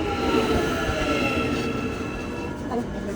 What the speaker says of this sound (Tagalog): So ayan na, guys, yung train.